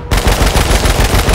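Rapid automatic gunfire from the video game H1Z1 King of the Kill, a loud, dense burst of shots fired in quick succession with no pause.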